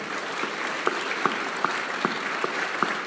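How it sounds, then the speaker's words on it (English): A round of applause at a Mines and Money event in 2015 for Gina Rinehart, a steady roomful of clapping with a few louder claps popping out at a regular pace. "another round of applause, please"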